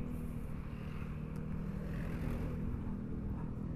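Motorcycle fitted with a racing exhaust on the move, a quiet steady low engine drone that hums continuously without clear revs.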